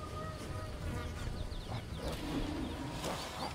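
Bees hover around a hive in the video game Ancestors, giving a faint, steady buzzing drone with scattered quieter chirps in the background.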